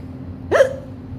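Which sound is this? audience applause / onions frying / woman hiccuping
woman hiccuping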